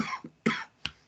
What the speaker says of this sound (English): little cough.